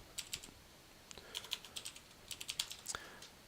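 Quick, light keystrokes on a computer keyboard come in an irregular run of clicks, close but quiet, with no talk.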